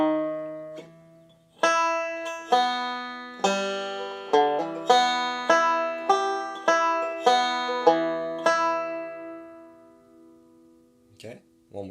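Banjo picking a slow forward and reverse roll, ending on the first string: a dozen bright, ringing plucked notes in a steady pattern, close and alone, each note decaying before the next.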